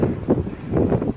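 Wind buffeting a microphone outdoors during a bow-and-arrow test, a continuous low rumbling roar that swells and eases in gusts throughout.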